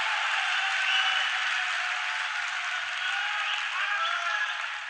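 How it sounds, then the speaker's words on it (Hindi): Seminar audience clapping together, a dense continuous wash of hand claps at a fairly even level for several seconds, heard from a slight distance with no talk over it. "तालियों की तूफान होनी चाहिए थी साथियों, तालियों की तूफान होनी चाहिए थी।"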